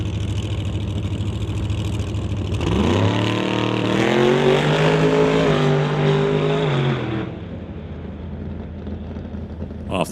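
Door-car drag racer making an eighth-mile pass at a tight strip, a loud engine roar rising in pitch for several seconds before cutting off the throttle, leaving a lower fading rumble.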